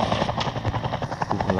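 A helicopter flies in the battle royale video game Knives Out, its steady rotor thrum and engine noise continuous and fairly loud across the short stretch with no voices.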